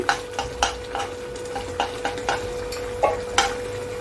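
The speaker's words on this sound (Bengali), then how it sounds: "এবার আমি দিয়ে দিলাম একটু ঘি" Light sizzle of ghee in hot moong dal, under repeated clinks and scrapes of a spoon stirring in a pot, the taps falling in an uneven rhythm.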